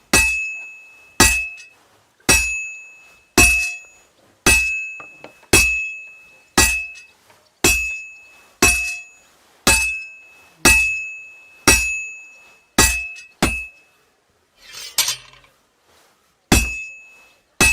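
Hammer blows ring out on metal while smithing in Kingdom Come Deliverance 2, sharp clanging strikes in a steady rhythm of about one per second, each with a bright ringing tail, loud and close with almost no talk.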